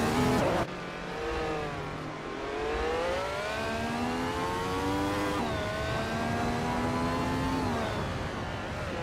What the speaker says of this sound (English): driving a 1967 Brabham BT 24 Tour